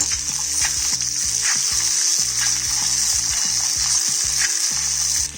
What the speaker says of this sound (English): let's add in whole cloves of garlic, immediately followed by roughly cut red onions